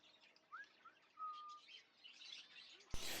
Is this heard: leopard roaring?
no